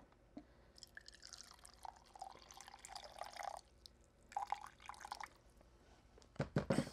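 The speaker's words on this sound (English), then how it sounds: "put some boiling water." Boiling water trickles and pours onto loose tea leaves in a cup in uneven bursts, with small drips and splashes, close by and fairly quiet.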